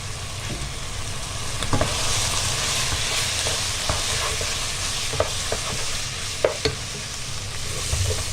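Onions being stirred into a paprika- and garlic-powder-seasoned sauce in a frying pan, with a steady sizzle and scattered spoon scrapes and clicks against the pan, close and alone.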